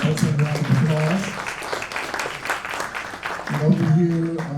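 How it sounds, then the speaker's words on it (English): An audience claps through the middle of a CCSF jazz band spring concert in 2023, a dense wash of applause framed by someone talking over a microphone before and after. "let's have a round of applause"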